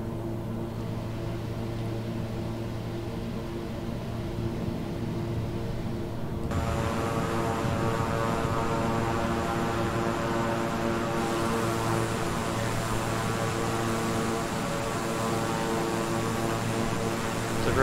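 Twin propeller engines of a King Air 350i in Microsoft Flight Simulator drone steadily and loudly throughout, rising to a fuller, brighter roar partway through as the throttle changes.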